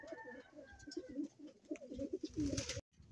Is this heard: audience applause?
no